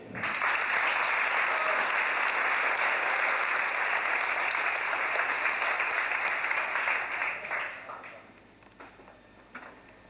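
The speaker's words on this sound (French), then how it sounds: "Je vous demande d'applaudir Éric Combier." An audience at a store inauguration applauds a water-ski champion, loud dense clapping that holds steady for about eight seconds before thinning out and fading.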